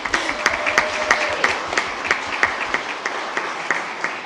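Audience clapping at a school board meeting, a light scattering of separate claps with uneven rhythm in a large room, moderately faint and never building into full applause.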